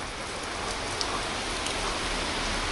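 Steady rain falls on a surface outdoors as a dense, even hiss with faint scattered drop ticks, with no voices.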